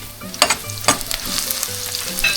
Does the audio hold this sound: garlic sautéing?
yes